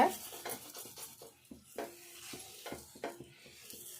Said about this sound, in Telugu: ఉల్లిపాయతో ఉల్లిగడ్డతో ఇది రుద్దుకోవాలి గట్టిగా ఇట్లా గట్టిగా రుద్దుకుంటేనే వస్తుంది దోశ